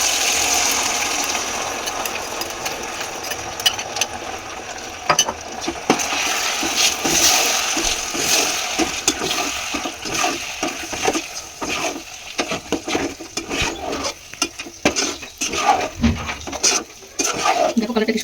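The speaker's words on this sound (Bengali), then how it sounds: "ভিজিয়ে রাখা সুজিটা দিয়ে দেবো" Soaked semolina going into melted sugar in a pan, with soft sizzling and scraping, stirring clatter of a utensil against the pan, intermittent and close, a voice briefly audible.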